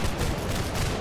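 Volley of rifle fire in a black-powder line-infantry game, a dense, continuous crackle of many muskets going off together for about a second, loud and filling, with no talk over it.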